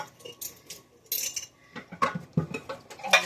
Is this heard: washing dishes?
yes